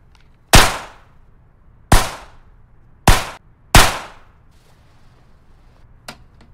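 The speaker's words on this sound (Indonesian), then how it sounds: "seorang wanita yang sedang latihan menembak" Four sharp gunshots crack one after another at uneven intervals during shooting practice, each with a short echoing tail, followed by a fainter distant shot.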